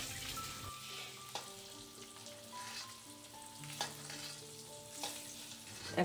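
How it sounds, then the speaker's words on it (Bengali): Egg seasoned with salt and turmeric fries in mustard oil with a soft, steady sizzle and occasional stirring knocks, fairly quiet and close, while a gentle melodic music line plays underneath. "সামান্য নুন হলুদ দিয়ে ডিমটাকে আমি সাঁতলে অন্য পাত্রে তুলে রেখে দেবো"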